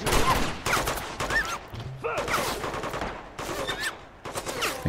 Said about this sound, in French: Un qui tire au lance-grenade plutôt.